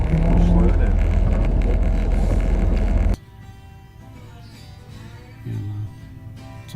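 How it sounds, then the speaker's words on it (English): A car's long-worn power steering pump groans as a loud engine rumble with a low tonal whine, then drops abruptly to a quieter idle where a short low groan rises and fades. "My power steering pump has been groaning for years."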